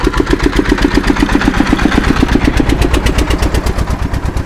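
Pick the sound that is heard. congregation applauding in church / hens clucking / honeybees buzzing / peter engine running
peter engine running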